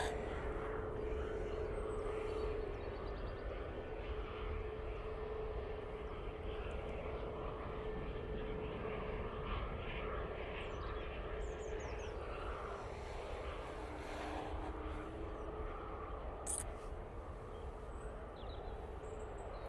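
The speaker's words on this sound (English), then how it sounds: "there's the KLM vacating down Victor Charlie, making that way to stand" A KLM airliner taxis off the runway toward its stand at Manchester Airport, producing a quiet, continuous engine hum and rumble with a steady whine, heard at a distance with little change.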